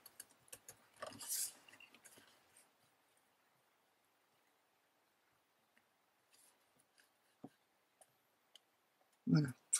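Metal hand punch tapping against paper while cutting a cheque holder pouch, a few sharp close clicks and taps scattered across a mostly quiet stretch, with brief rustling and a person talking near the end.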